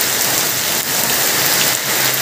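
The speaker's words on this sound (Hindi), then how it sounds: "इधर बहुत तेज बारिश हो रहा है," Heavy rain pours steadily during a Chennai flood with water covering the roads, a dense, continuous close-up hiss of drops hitting surfaces with no voices.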